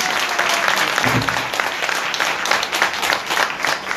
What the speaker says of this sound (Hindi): बड़े जोरदार ताली बजा।